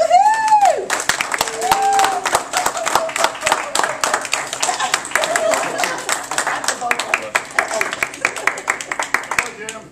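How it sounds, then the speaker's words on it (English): Clapping and scattered cheers from an audience honouring Jim Doering, a former Rainmaker of the Year, dense hand claps throughout with a whistle-like voice or cheer at the start and occasional shouts mixed in. "I'd like to have you join me in giving a round of applause to Mr."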